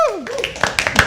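Audience clapping at a live poetry open mic at The Habitat, a short burst of scattered claps mixed with a speaking voice.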